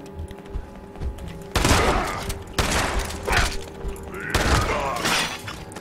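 Heavy shotgun blasts and shattering impacts boom in the Fallout 76 beta, three loud crashing bursts over constant game background noise, with a faint voice underneath.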